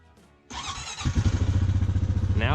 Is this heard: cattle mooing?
no